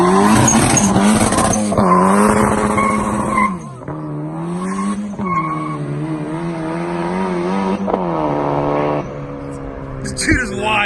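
A Miata-engined kart launching hard with its tires spinning, heard as a loud, close engine scream whose pitch climbs and drops in sweeps over sustained tire squeal, with voices talking underneath.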